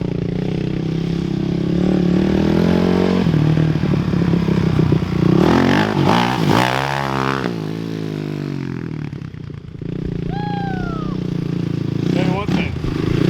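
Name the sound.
Honda TRX 450er quad engine revving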